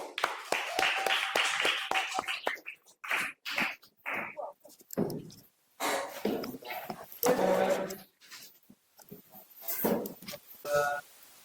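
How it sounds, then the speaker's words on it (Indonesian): Audience clapping after a group presentation in a classroom, a quick burst of claps at first that breaks into scattered, uneven claps with pauses, close and fairly loud, and voices and noises mixed in. "Beri tepuk tangan."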